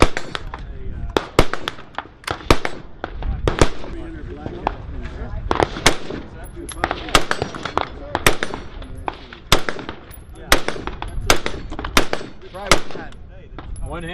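An IWI Tavor X95 bullpup rifle with a 16.5-inch barrel fires at an outdoor range day. Loud, close shots crack out one after another in an irregular rhythm, about a second apart, for over fourteen seconds.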